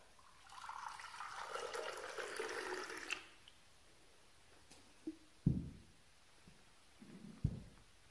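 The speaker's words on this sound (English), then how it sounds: "The sound of drink being poured into a cup." A short stream of liquid poured into a cup for a few seconds, followed by quiet, then a few soft knocks and clinks nearby.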